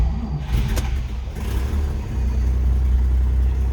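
A 1950 Chevrolet Styleline Sport Coupe engine cranks and fires up via its starter button with the choke partly pulled, then settles into a loud, steady close-up rumble.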